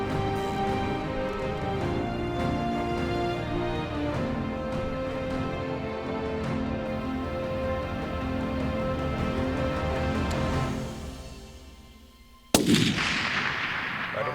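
A rifle shot fired during a youth ibex hunt in the Florida Mountains rings out loud and sharp near the end, following a long stretch of steady, dense background noise.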